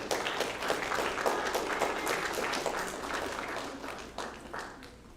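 A banquet audience at a school volleyball and cross-country celebration claps in sustained, dense applause that slowly thins and fades toward the end.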